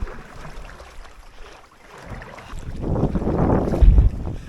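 Wind blowing across a lake on a late-fall canoe trip in the Boundary Waters, a steady rushing gust with microphone buffeting that swells louder toward the end, no talk.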